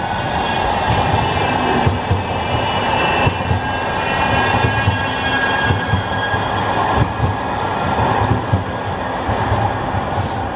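A steady rumbling tram rolls by nearby in Oldham town centre at night, its droning mechanical noise and faint rhythmic clatter continuing without a break for several seconds.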